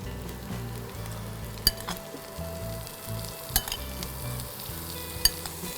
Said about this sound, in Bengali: আলুটা তো মোটামুটি ভাজা হয়ে গেছে, এবার আমি ফুলটা দিয়ে দিচ্ছি